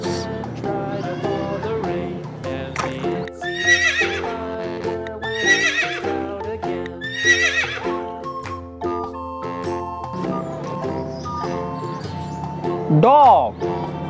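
A horse neighs and whinnies in several shrill, wavering calls over music, with a louder sharp whinny near the end.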